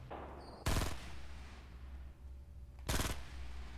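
Two short bursts of automatic gunfire in a Fortnite Battle Royale 50v50 match, about two seconds apart and fairly close. Quieter game ambience fills the gaps between them.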